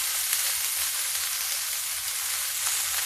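Spinach sizzling in ghee with spices in a pan, a dense, steady crackling hiss close up and fairly loud throughout, with no voices.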